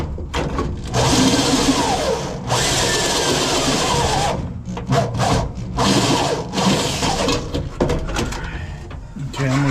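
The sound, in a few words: drill with a 90-degree bit on car sheet metal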